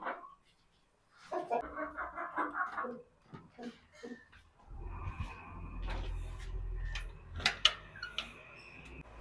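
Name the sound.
chickens clucking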